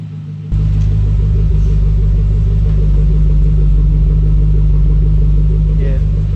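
A Holden VE SS Ute engine with a cam runs at a steady idle while warming up, a constant low rumble that starts abruptly and holds evenly throughout.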